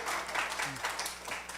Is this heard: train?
no